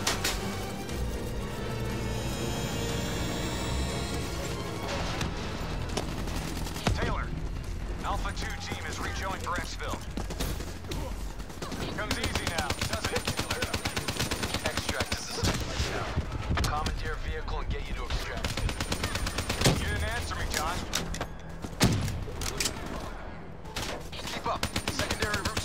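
Call of Duty Black Ops 3 campaign firefight, with dense gunfire and heavy booming shots running steadily through the whole stretch under a busy game soundtrack, while voices talk over the din.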